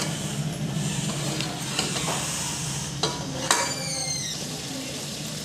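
Chicken karahi frying in a pan, a steady sizzle with a few sharp metallic scrapes and clinks of a spoon against the pan.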